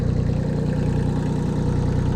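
A Kubota L235DT tractor engine idles steadily nearby, a loud, even low-pitched diesel chug with a regular pulsing rhythm and no other sounds.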